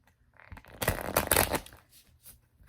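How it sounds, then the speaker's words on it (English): Tarot cards are shuffled close to the microphone in a quiet room: a soft rustle builds into a dense riffling burst, then trails off into scattered light card flicks. "I'm going to go ahead and start shuffling"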